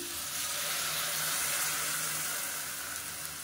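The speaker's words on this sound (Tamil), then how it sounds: "ஒரு 1/2 டம்ளர் அளவுக்கு தண்ணி விட்டுருக்கேன்." About half a tumbler of water goes into a pan of frying tomatoes, salt and chili for a chutney, giving a continuous close hiss of sizzling liquid that stays even throughout.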